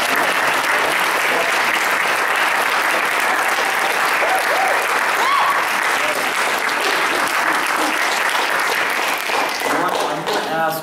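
A live audience claps loudly and steadily throughout, with cheers and voices mixed into the dense applause, which tapers slightly at the very end.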